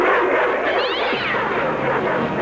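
A house cat meows, a clear drawn-out cry close by with a rising and falling pitch, heard alone over a steady background hiss.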